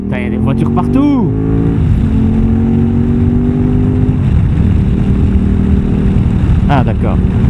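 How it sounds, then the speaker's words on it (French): Road traffic surrounds a rider on a KTM motorcycle. A loud, constant engine and wind roar dominates, with other vehicles passing by with rising and falling tones near the start and end, and a voice faintly underneath. "Il y a des voitures partout."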